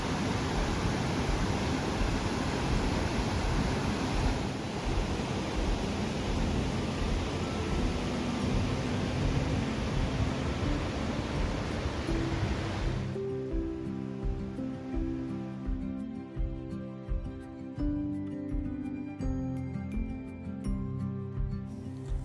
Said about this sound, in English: huge roaring sound of waterfalls make the place more interesting.